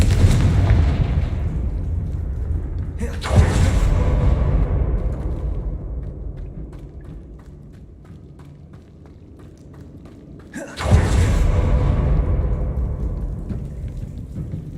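Confringo blasting spell explosions in the game Hogwarts Legacy, two loud booming blasts several seconds apart, each followed by a long rumbling decay, with no voices.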